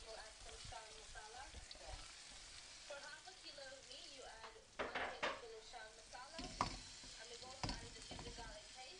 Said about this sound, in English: so I'm just going to brown these onions